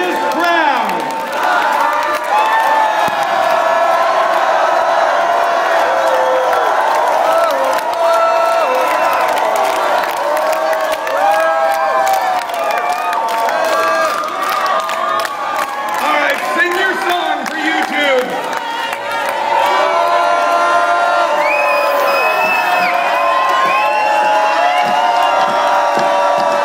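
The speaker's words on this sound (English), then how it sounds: "And look at this crowd." Festival crowd in the AstroLabe Tent cheering after an Indian brass band's set, a loud sustained roar of shouts, whoops and chanting voices going on throughout.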